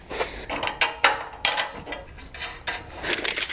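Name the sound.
tightening bolts with a 9/16 socket wrench and ratchet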